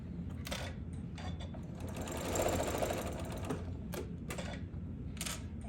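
A sewing machine runs steadily, stitching together pieces of a Hunter Star quilt block with a close, continuous mechanical whir and faint rhythmic ticking.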